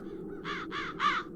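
Three harsh crow caws in quick succession within a Dark Eye adventure game scene, fairly close and distinct over a low ambient hum, the last call loudest.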